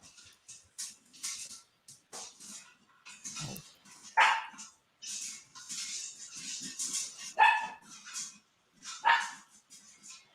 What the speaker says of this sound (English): Now Chester's barking at the popcorn.